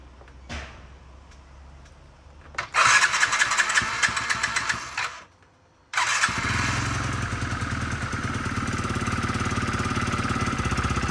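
A Yamaha Jog SA36 scooter with a fault that keeps it from holding idle is started: the starter cranks, the engine catches briefly and dies, then restarts and runs at a steady, close idle with no talk.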